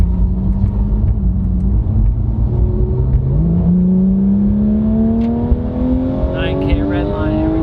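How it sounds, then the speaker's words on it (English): A Porsche GT3 launches on a track day at Streets of Willow, its engine note climbing steadily through the revs as the car accelerates hard, loud and close, with wind and road roar underneath. "give you guys a little launch here."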